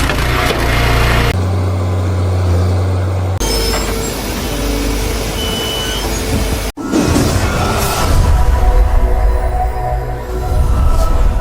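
A John Deere 748L-2 grapple skidder with a 9.0-liter PowerTech diesel hauls a heavy load of logs through forest, its engine roaring loudly and steadily with shifting pitch and a brief break midway.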